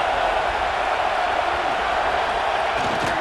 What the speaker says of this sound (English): This crowd knows this defense needs them right now.